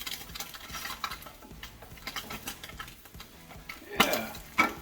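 Slices of Spam fry in a pan with a soft, steady sizzle under irregular scraping and clicks of a utensil against the pan, ending in a couple of sharper metallic clatters.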